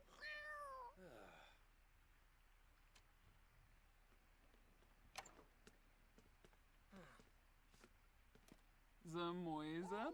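A cat in a life simulation game gives two clear meows, one at the start and one near the end, with quiet ambient game sounds between them.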